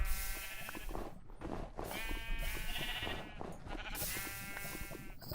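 Sheep in Minecraft bleat repeatedly in a loose, overlapping series of wavering cries, fairly close and clear, with no talk over them.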